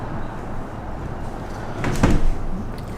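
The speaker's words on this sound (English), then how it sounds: "I'm just gonna close this door." A door pulled shut in a workshop holding a laser machine, a low rumbling slide that ends in one solid thud about two thirds of the way through, heard alone and fairly close.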